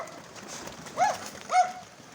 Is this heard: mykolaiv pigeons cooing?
yes